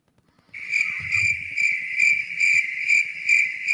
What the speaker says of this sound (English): Don't you give me the fucking crickets.